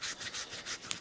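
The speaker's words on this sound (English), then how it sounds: "Give that a bit of a clean and a bit of a wipe out as well. Just a bit of green rag." Green rag rubbing and wiping a carburetor part from a vintage 1954 Atco Villiers Midget kick-start lawn mower, a quiet rhythmic series of about five soft scrubbing strokes, close and alone.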